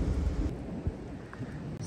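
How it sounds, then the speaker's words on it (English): Thunder rumbling during a summer monsoon storm in Cimarron Canyon, a low rolling boom strongest at the start then fading into a quieter rumble, with light rain hiss beneath and no voices. "Still some big thunder boomers."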